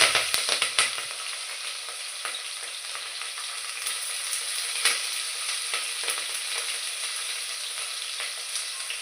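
Two medium onions and a couple of green chillies fry in a pan for a mushroom biryani, giving a steady, close sizzle with scraping stirs and no talk.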